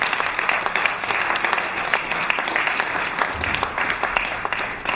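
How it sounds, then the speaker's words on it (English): A crowd at the Africa Business Roundtable in London applauds General Yakubu Gowon, steady dense clapping throughout with a few faint voices mixed in. "a big round of applause for His Excellency General Yakubu Gowon"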